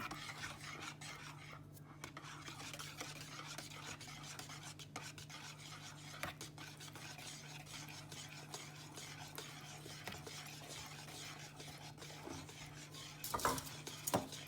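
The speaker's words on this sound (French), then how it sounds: "et on mélange bien pour pas qu'il y ait de grumeaux" Steady scraping and rubbing of a spoon or whisk mixing flour into cupcake batter in a bowl, a quiet continuous stirring rasp with a few louder knocks against the bowl near the end.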